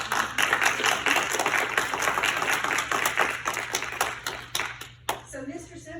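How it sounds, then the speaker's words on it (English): A small group in a room claps for a senior about to give her thesis defense, the applause steady and close for about four seconds, then thinning to a few scattered claps and quiet room tone. "we want to applaud you just at the beginning to start that"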